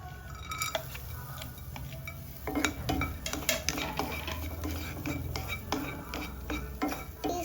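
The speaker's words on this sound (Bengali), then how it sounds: "আর এখন লাস্টে ভেজে নেব" Raisins being fried in a pan for Ganesh Chaturthi besan laddu and modak, with a spatula stirring and clinking against the metal in irregular scrapes and taps, faint sizzle beneath, over a low hum.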